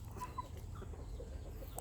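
A one-year-old Burmese gamecock rooster of about 3 kg, the cock leading the flock in a garden, gives soft clucks, faint and close, over a low steady background hum.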